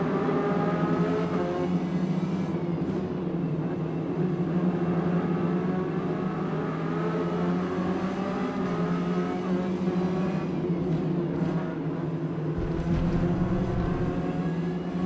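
Ginetta Junior race cars on track in Forza Motorsport, a steady engine drone with another car roaring close by, loud and continuous with no voices.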